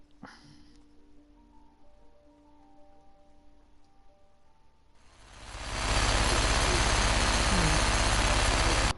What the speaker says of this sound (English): Sound of the pneumatic drill going off.